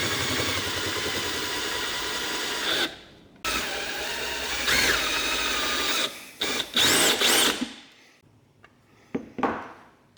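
A power drill fitted with two different size bits whirs steadily for a few seconds while drilling holes for jacks in a DIY 12V LiFePO4 battery build, stops briefly, then runs again in bursts before short, sharp taps near the end.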